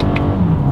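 A 2023 Toyota Camry pulling hard under acceleration, a close, loud, steady engine drone with a rising tonal hum, heard alone.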